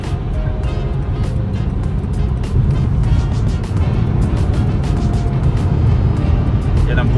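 Big trucks and traffic rumble past on a Montreal highway in a loud, continuous road roar with whooshes of passing vehicles, heard from inside a moving vehicle while someone talks over it.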